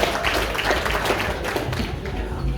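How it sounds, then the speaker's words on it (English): Audience applause fills a dinner hall at a nurses' and midwives' association gathering, steady dense clapping from a crowd lasting throughout at moderate loudness, with a bit of voice mixed in. "So give yourselves a round of applause"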